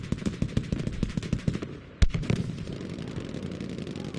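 Panzer IV tank firing in a video game, with a rapid run of sharp bursts, then one heavy blast about midway, followed by a lingering rumble.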